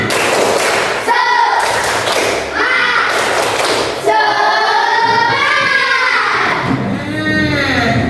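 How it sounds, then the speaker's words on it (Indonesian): Students in a classroom chant 'tepuk semangat', beating out loud rhythmic claps and thumps in unison while their voices ring out over the beat. "Tepuk semangat."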